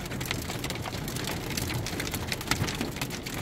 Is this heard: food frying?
no